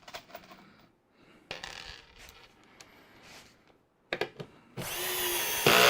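A power drill driving screws into a wooden drawer: short, sharp whirring bursts separated by pauses and handling clatter, ending in a longer, louder sustained run close by, with no speech.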